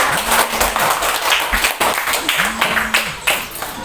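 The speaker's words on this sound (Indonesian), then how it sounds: "Tepuk tangan dulu untuk temannya." Students in a classroom clap for a classmate, uneven bursts of hand claps close by, with a teacher's voice talking over parts of it.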